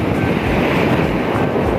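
Heavy surf at a beach on a rough sea day makes a continuous, close wash of breaking water mixed with wind rumble on the microphone.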